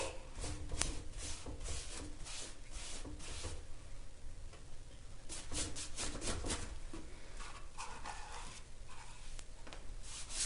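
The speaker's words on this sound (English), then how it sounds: "And then sand those edges at the bottom." Sanding the edges of a decoupaged furniture piece by hand, a steady close scratchy rubbing in repeated strokes with brief pauses, no talking.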